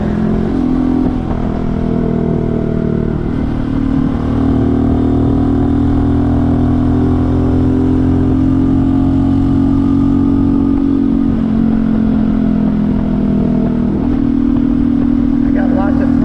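A Honda CT125 motorcycle rides at speed with a steady, loud engine drone that holds for about sixteen seconds. The pitch shifts slightly as the throttle changes, and wind noise is mixed in.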